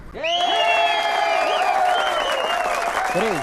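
An audience breaks into clapping and cheering at a Telugu film scene after a line of dialogue. The applause is loud and sustained, with whoops rising over it.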